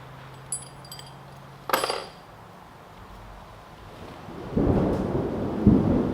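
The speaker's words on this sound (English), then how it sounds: "I don't know if y'all hear that or not, but yeah, I got a thunderstorm coming." Distant thunder rumbles in with a sharp crack partway through, followed by a low rolling swell, amid faint clinks and the patter of rain.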